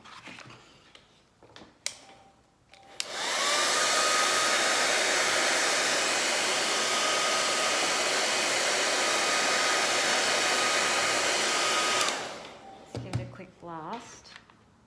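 A heat gun blasts steadily for about nine seconds while warming a FlexiWood moulding for a décor letter project, a loud, even roaring hiss that starts and stops abruptly, with quiet handling noises before and after.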